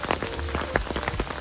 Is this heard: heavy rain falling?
yes